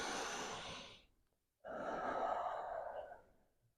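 Slow yoga breathing is heard close up: a long airy exhale, a brief pause, then another drawn-out breath of similar length.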